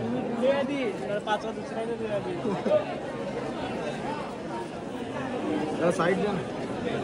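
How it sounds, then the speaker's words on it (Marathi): Dense crowd chatter at a Ganpati darshan during the Ganesh festival, many voices babbling close by in a steady, crowded hubbub. "सध्या लय गर्दी आहे."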